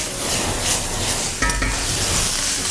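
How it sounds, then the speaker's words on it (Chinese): Pickled mustard stirred in a hot, oiled wok with ginger, garlic slices and small chillies, giving a steady close sizzle with scraping spatula strokes and a brief clatter midway, no talking. "把榨菜一起炒香。"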